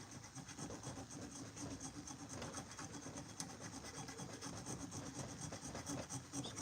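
Steady abrasive rasping of sandpaper worked by hand along a steel knife blade at a home forge, a continuous close scratchy rub with a faint sharp tick midway.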